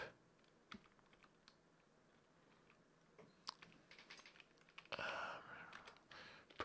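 Rapid, uneven clicking of typing on a computer keyboard, close and fairly quiet, in short bursts with pauses and a denser flurry of keystrokes toward the end.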